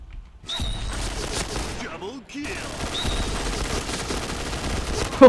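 Bursts of rapid gunfire in the online shooter Point Blank, steady crackling volleys with a brief pause, game effects and a bit of faint talk mixed in.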